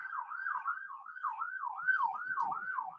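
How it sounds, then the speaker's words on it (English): An emergency vehicle siren passes by outdoors, its rising-and-falling wail repeating steadily for the whole stretch at moderate volume, with faint low rumbles beneath. "There's the first siren that I was talking about."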